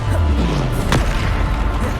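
A Bombarda spell explosion in the video game Hogwarts Legacy, a loud, deep boom with a sharp burst in the middle, set within dense game effects.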